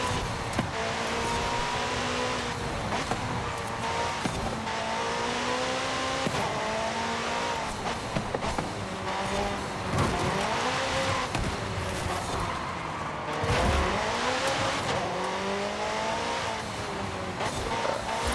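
A McLaren 650S races in Forza Horizon 5, its engine loud and close, revving up and down through gear changes with occasional tire squeal, no talking.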